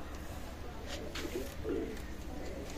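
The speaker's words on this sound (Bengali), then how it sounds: "চমৎকার চমৎকার ব্লাড লাইনের কবুতর দেখাবো" Pigeons of a prized bloodline coo in low, soft, throaty bursts amid a steady hum of background noise, a couple of murmuring calls close by.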